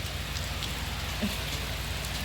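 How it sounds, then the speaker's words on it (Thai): Rain falling in a steady, dense patter on surfaces, constant and fairly close, with no voices over it. "ฝนตกแล้วฝนตกลฝนตกแล้ว"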